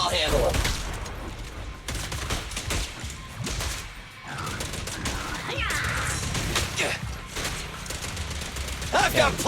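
Rapid bursts of gunfire from the action game Zenless Zone Zero, fighting ethereal monsters: dense, crackling volleys with thumps and crashes run nearly continuously for several seconds, mixed with game effects and a voice speaking.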